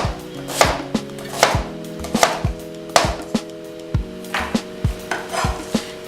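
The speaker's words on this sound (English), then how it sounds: "next step is we're going to take our knife and cut it this way" Repeated knife chops on a cutting board while preparing shepherd's pie, about a dozen sharp, fairly close strokes in an uneven rhythm, with a steady hum of kitchen noise underneath.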